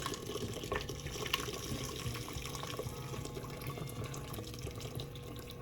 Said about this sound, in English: So I'm gonna put another kettle of water.